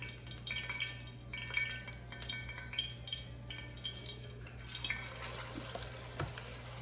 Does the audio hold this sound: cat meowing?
no